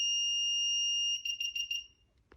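ANCHEER folding treadmill beeping as its remote control pairs: one long steady high electronic tone, then a quick series of short beeps, close and alone.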